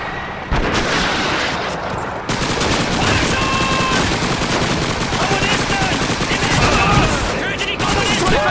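Heavy gunfire in the Call of Duty 2 Russian campaign: dense, loud bursts of rifle and machine-gun fire with booming impacts, continuous throughout, and a faint voice occasionally under the din.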